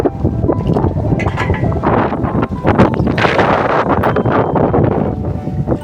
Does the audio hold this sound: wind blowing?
yes